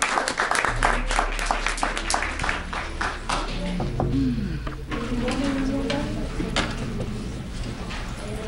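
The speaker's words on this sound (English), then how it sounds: "give your parents a big round of applause" An audience at a school board meeting applauds parents, a dense, steady wash of many hands clapping at close range with a few sharp individual claps standing out and a faint voice underneath.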